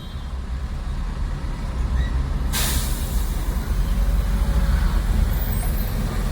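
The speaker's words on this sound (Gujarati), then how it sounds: "ખાવડી જામમાં સિક્કાથી ખાવડી રસ્તો ફૂલે ફૂલ જામ પડ્યો છે" Heavy traffic jammed on the Khavdi road out of Sikka: a constant low roadway rumble of idling trucks and vehicles, with one sharp air-brake hiss bursting out midway, no talk.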